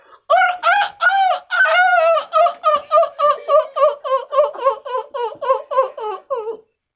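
A person imitating a chicken in Minang comedy: a long run of rapid, rhythmic clucks and squawks, repeated steadily for several seconds, loud and close.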